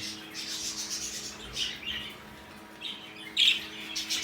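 Birds squawking and chirping nearby, with harsh, scratchy calls in irregular bursts over a low background hum, with one louder call near the end.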